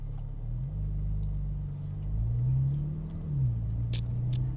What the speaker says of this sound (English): you hear a lot of the good revs coming in around about 5K